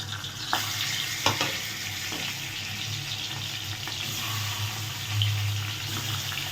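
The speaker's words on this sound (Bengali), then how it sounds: "এই তেলেই আবার ছেড়ে দেবো বাকি মাছগুলো।" The remaining Bhola fish fry in reused oil, giving a soft, steady sizzle with a few sharper pops and crackles, moderately close and without talk.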